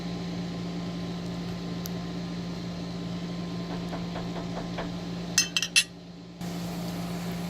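A microwave oven reheating food hums steadily, then a few bright beeps and clinks sound before a short pause, after which the hum returns.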